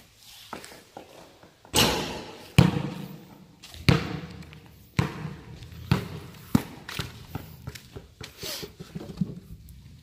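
A basketball bouncing indoors, with a series of separate loud thumps on the floor at irregular intervals and quieter knocks and handling noises between them.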